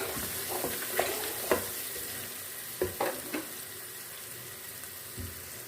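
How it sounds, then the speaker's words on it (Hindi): Faint sizzling of garlic-ginger paste frying in a pan under a steady hiss, with a few scattered clinks and scrapes of stirring. "अब इसमें हम लहसुन अदरक का पेस्ट डालेंगे और इसको हम फ्राई कर लेंगे"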